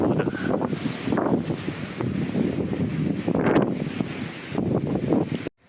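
Gusty wind buffeting the microphone near Burg Kreuzenstein castle in Austria, a rough rumbling roar that rises and falls before cutting off abruptly at the end.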